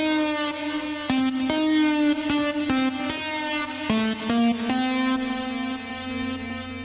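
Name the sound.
simple synth lead melody with reverb and delay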